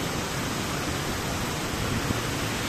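A river on the Pagsanjan-Cavinti loop rushes in a constant broad roar, steady and fairly loud, with no voices.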